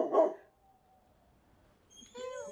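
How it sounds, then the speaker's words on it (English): A single dog bark rings out up close, followed by a quiet gap and then a higher whining yelp. "All the dogs are barking."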